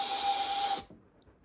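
A model locomotive steam whistle blown by mouth sounds a breathy, airy tone with a faint pitched note for under a second, then cuts off abruptly.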